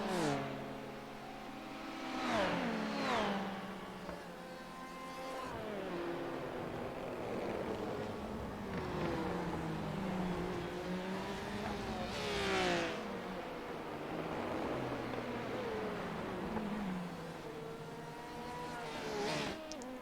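LMP prototype race car in the iRacing simulator during an IMSA race at Road America, engine revving and shifting repeatedly with several passing surges over a continuous loud drone.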